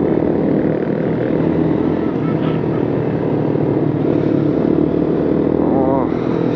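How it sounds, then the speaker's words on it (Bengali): GPX motorcycles ridden on a highway with their dB killers removed roar steadily and loudly at close range, a continuous dense engine drone that holds throughout. "আর ভাই এই হলার গুলা ডিবি ডিবি সব রাখছে খুইলা, রাস্তা ভো ভো ভো ভো করতেছে।"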